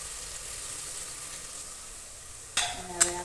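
Chutney frying in hot oil in a pan, a soft, steady sizzle and hiss that runs throughout, with a couple of sharp clinks of a utensil near the end.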